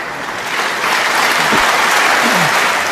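Sustained, dense applause from a snooker match crowd, a steady loud wash of clapping that swells slightly and holds throughout, with faint murmurs underneath.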